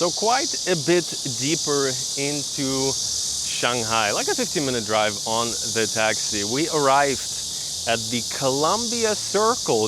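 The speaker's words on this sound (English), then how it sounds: "The background noise you're hearing is these type of insects, these type of crickets." Crickets in Shanghai chirp loudly as a constant high, shrill drone through the whole stretch while someone talks over it close to the microphone.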